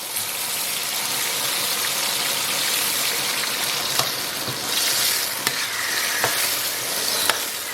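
Fermented tofu and soybean paste stir-fry over low heat in a wok, a steady close sizzle broken by a few sharp scrapes and taps of the spatula, with no talking.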